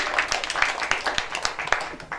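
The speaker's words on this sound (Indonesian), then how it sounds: "Tepuk tangan dulu dong, boleh untuk Anggara." Applause rises for Anggara at the KNPI Bantul Award ceremony, a crowd clapping steadily with sharp individual claps standing out, fairly close and loud, with a voice talking over it.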